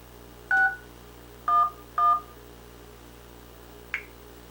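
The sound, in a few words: phone dialing 611, DTMF keypad tones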